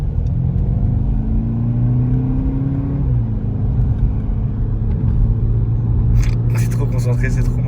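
A car engine hums steadily with a low rumble, its pitch rising slightly then dropping, while a voice talks over it.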